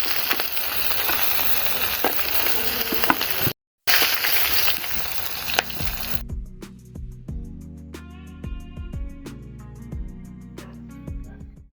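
Murrel fish sizzles and crackles in hot oil in a pan for about six seconds, with a short gap, before the sizzle gives way to softer background music.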